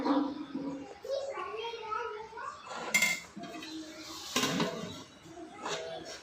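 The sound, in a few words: spoon mixing cooked rice in a bowl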